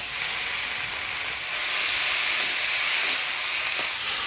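Potato stalks stir-fried with spices in a pan before Malabar spinach leaves go in, for a Bengali rohu fish curry: a loud, steady close-up sizzle and hiss with no pauses.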